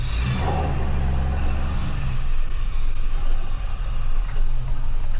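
A pickup truck with a 5-inch exhaust rumbles steadily at close range while backing up to a trailer, its deep low idle and light throttle droning continuously throughout.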